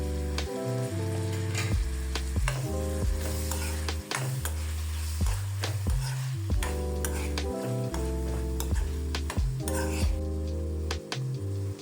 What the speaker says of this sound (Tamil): இந்த இறாலை இதோடு சேர்த்துட்டு ஒரு 2 மினிட்ஸ் வதக்கிக்கிடுவோம்.